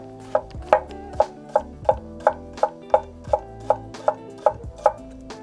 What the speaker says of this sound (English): we've cut up all our food